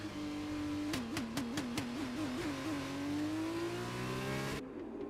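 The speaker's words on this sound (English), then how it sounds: "This car sounds very, very buggy indeed." Race car engine in the video game F1 2020 on a Bahrain circuit, a loud, close whine that pulses in a rapid rhythmic stutter as if the anti-stall is kicking in, then revs steadily upward before cutting off abruptly.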